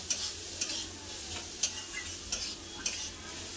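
Spices and chili powder are stirred in a pan for a tomato fish curry, giving a soft, steady frying hiss with about five light scraping strokes spaced roughly half a second to a second apart.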